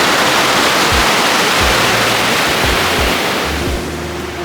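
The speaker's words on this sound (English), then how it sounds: "The river's right down there." A winter river rushes steadily just below a parking lot during a snowstorm, a loud, continuous broadband wash punctuated by low wind thumps against the microphone.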